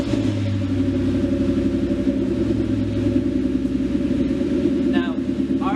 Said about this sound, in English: But I'm surely gonna give it a rev, and hopefully you guys like it.